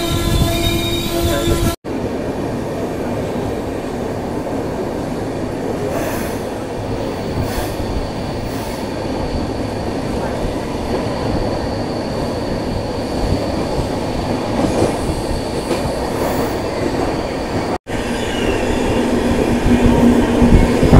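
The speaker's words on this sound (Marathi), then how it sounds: "लोणावळ्यानंतर आपली ट्रेन खंडाळ्यामध्ये स्टॉप घेते, कारण की त्याचा टेक्निकल हॉल्ट आहे 2 मिनिटाचा." The Deccan Queen express running between Pune and Mumbai near Khandala, a loud continuous rumble of wheels on rails heard from inside the train, with squealing tones and some clatter throughout.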